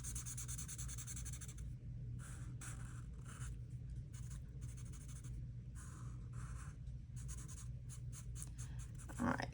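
A pen scratches steadily across paper in quick bursts of back-and-forth strokes, coloring in a square on a tabletop game sheet, close and alone with no talking.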